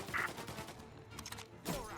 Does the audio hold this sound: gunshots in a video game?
yes